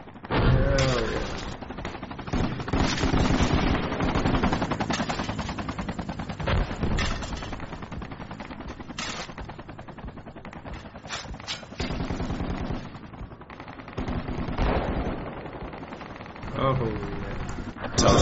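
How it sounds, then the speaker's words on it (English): Heavy machine gun in the Project Reality military game firing long, loud sustained bursts of rapid shots with brief pauses, dense and close, with a voice talking faintly underneath. "Oh, it's just an HMG. Cool. I'll man it."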